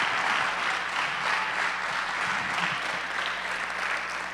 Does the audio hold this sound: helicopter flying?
no